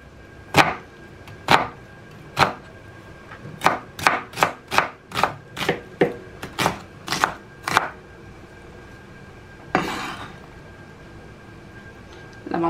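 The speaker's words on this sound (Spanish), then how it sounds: "Picar la cebolla." A knife chops an onion on a cutting board in a kitchen, sounding as sharp, close knocks that start slow, then speed into an even run of about a dozen quick strikes, with one rougher scrape near the end. No one talks.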